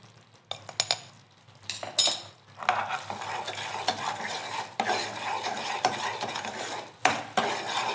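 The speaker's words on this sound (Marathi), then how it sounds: "अजून एक दोन मिनटं फक्त पाक बनवून घेऊया" Jaggery syrup for sesame-peanut chikki cooks in a pan while a spoon stirs it, with repeated scraping and clinking against the metal over a bubbling sizzle.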